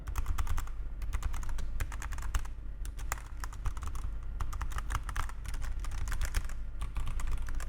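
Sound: quiet computer keyboard typing

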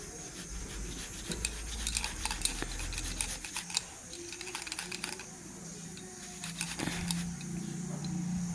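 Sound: boiled potato being grated with a grater

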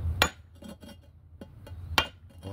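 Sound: hammer striking, trying to crack it

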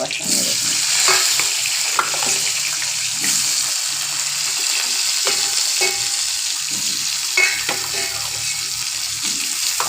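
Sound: potatoes frying in a pan

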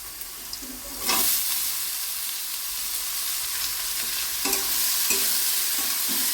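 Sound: frying banana flower with potatoes in a pan

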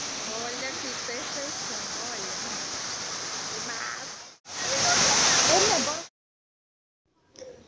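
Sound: water rushing, like a waterfall

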